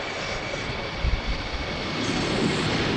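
Jet airliner engine roar from an EasyJet Airbus departing Amsterdam Schiphol in windy weather, a steady broadband rumble with wind buffeting, continuous and fairly distant throughout.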